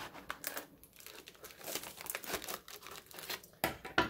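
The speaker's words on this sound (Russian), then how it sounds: "Так, еще одна коробка, сейчас еще одну откроем." A cardboard box of campanula plant deliveries is opened in close, crisp bursts of crinkling and tearing of paper and packing, with irregular rustles and a couple of sharper rips near the end.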